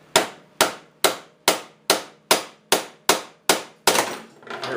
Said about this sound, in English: Get behind the bolt with the pry bar and see if we can't give it a few little taps to help it along.